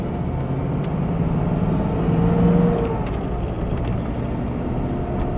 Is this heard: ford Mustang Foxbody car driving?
yes